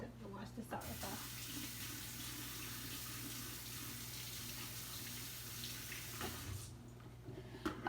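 A kitchen tap runs steadily for several seconds while a container is rinsed out during aguachile preparation, a close, full rush of water that starts and stops abruptly.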